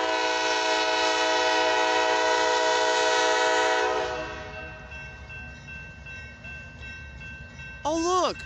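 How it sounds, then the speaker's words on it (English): A loud, sustained multi-tone horn blasts from a CSX coal hopper train, then cuts off and gives way to a lower rumbling roar of the train passing, with a brief whistling chirp near the end. "I can hear the roar of that CSX train."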